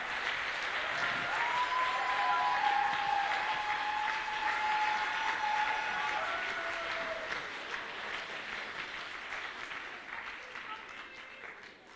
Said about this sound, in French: Je pense que cette transformation de costume mérite un tonnerre d'applaudissements.